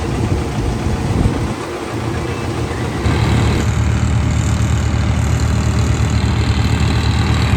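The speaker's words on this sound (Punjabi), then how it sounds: "ਲੋਡ ਤੇ ਚੱਲ ਰਿਹਾ ਟਰੈਕਟਰ" A tractor engine running under load while hauling a trolley, a steady low rumble that grows fuller and louder about three seconds in and then holds, close and continuous with no voices.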